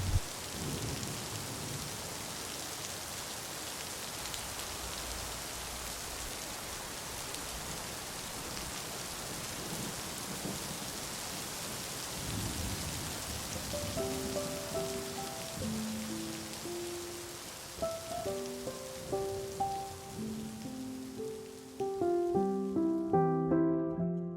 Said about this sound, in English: Whoa, that's some thunder.